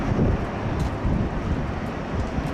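A Qantas 787 in updated livery takes off at Sydney Airport bound for Melbourne, its engines a broad, steady roar that blurs with wind buffeting the microphone.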